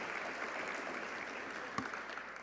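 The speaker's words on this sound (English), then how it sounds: "Big round of applause to Brooke." Audience at a media arts scholarship awards ceremony applauding a recipient, steady soft applause at a distance with one sharp knock near the end.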